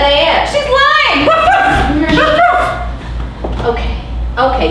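A performer at an improv comedy festival imitates a dog with voiced barks, yips and whimpering whines, loud and close, running continuously for several seconds with no spoken words.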